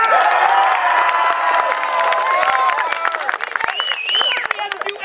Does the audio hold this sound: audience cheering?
yes